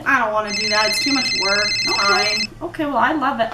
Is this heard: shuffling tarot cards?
no